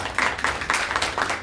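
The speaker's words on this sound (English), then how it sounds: "So, clap for Nancy." An audience claps for the Rhinebeck town historian at a local history talk. The clapping is brief and scattered in quick bursts, fairly close and moderately loud, with no speech over it.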